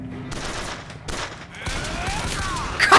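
Gunfire in the video game Bioshock Infinite, several sharp bursts of shots at irregular intervals with ringing tails, loud and close, ending in a brighter clatter.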